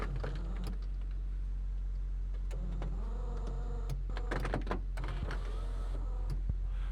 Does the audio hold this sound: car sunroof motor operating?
yes